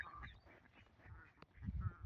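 Ducks quack faintly and intermittently in the distance, a few scattered calls over a low, muffled background.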